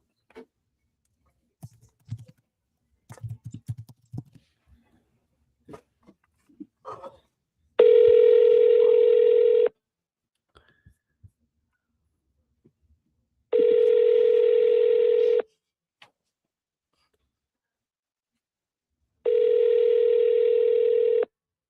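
Telephone call audio with soft keyboard clicks and taps at first, followed by three long, loud steady electronic dial-tone bursts separated by silence.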